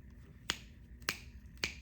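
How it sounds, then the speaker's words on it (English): Three crisp finger snaps ring out at even intervals, quiet and close, with nothing else around them. "You didn't snap your fingers, did you?"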